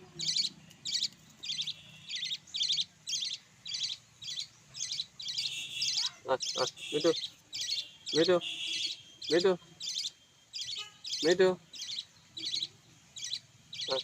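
Pet budgerigars chirp in quick repeated bursts through the whole stretch, near and steady, while a person talks and softly calls to the birds over them.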